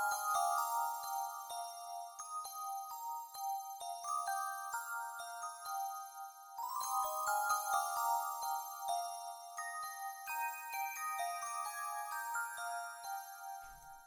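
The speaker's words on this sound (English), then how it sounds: "once again, I've gotten this Pretty Bells patch and I copied over the high end, the top melody from the piano" Pretty Bells patch on a Roland JV-1080 synth plays a bright, chiming top melody copied from a piano part, for a 90s R&B beat in FL Studio; sustained bell tones step through notes steadily, alone and clear.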